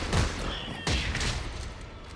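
Enemy gunfire in the sci-fi horror game Dead Space 3 lands as two heavy blasts with a muffled, reverberant tail, surrounded by a constant rumbling game ambience.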